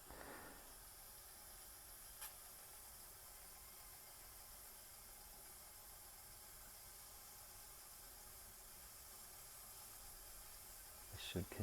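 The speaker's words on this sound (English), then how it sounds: "But now you can see little puffs of steam." A Bellman stovetop milk steamer fitted with an anti-vacuum valve releases steam in a steady, faint hiss that runs unbroken for several seconds, with a small tick near the start and a brief rustle at the end.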